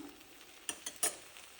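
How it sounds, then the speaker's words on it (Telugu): Spice powders frying on a low flame for an okra tamarind gravy, a faint soft sizzle broken by three quick scraping stirs of a spoon against the pan, no talking. "ఇదైతే అలా లో ఫ్లేమ్లోనే కొంచెం సేపు వేయించుకుందాం"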